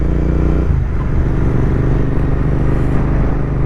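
A Royal Enfield GT650 motorcycle on a New Year ride, its twin-cylinder engine droning in a steady, loud low rumble with a faint rise in revs, close and continuous with no talk.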